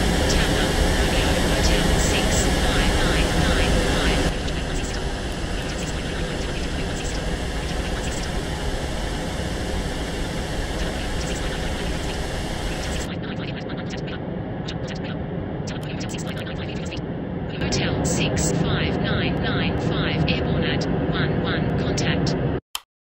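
An Ita Airways A330neo takes off in Real Flight Simulator, its engines a loud, steady broadband roar with a high whine; the tone shifts partway through while radio-style voices talk over it.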